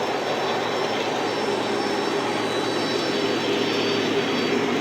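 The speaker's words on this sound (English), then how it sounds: "As you can see, the Conrail GG-1 coming around." A Conrail GG-1 model locomotive runs around a layout with a steady, even whirring drone that holds at a moderate level throughout, with no break and no talking.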